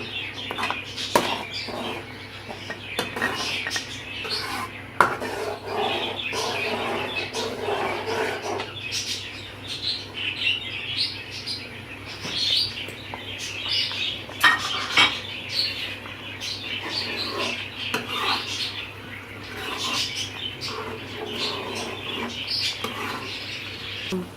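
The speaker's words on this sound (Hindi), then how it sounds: "चम्मच को अच्छी तरह से चला लेंगे ताकि मसाले अच्छी तरह से इसमें फ्राई हो जाए" A metal spoon stirs spices frying in a pan for aloo palak, giving repeated scraping clinks against the pan over a soft, steady sizzle, close and fairly quiet, with no talk.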